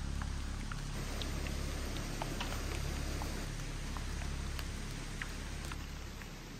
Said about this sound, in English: Today's super rainy.